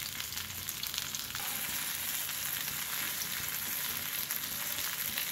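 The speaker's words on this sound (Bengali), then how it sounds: "খুব সময় নিয়ে ভাজতে হবে যাতে নরম তুলতুলে হয়ে যায়।" Brinjal (eggplant) slices frying in a little oil, a dense, continuous sizzle with fine crackling that holds steady throughout, close by with no talking.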